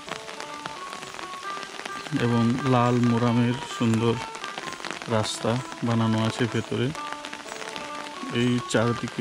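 Steady rain patters over a leafy garden at the Chetona Eco Village Resort in Jhargram, a constant wet hiss running beneath a person speaking close by.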